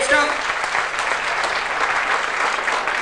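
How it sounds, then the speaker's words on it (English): Steady applause from an audience fills the whole stretch, dense clapping at an even level with no voices breaking through. "Give him a good round of applause, folks."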